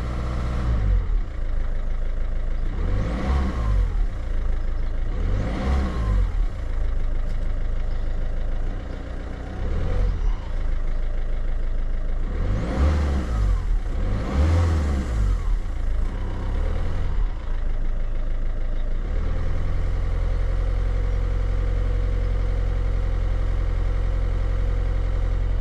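A Peugeot 5008 1.6 HDi diesel with a faulty TDC sensor runs steadily near by, rising in several loud revving surges before settling into a low, even idle.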